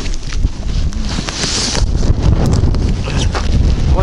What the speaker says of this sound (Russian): Ветер сильный от нас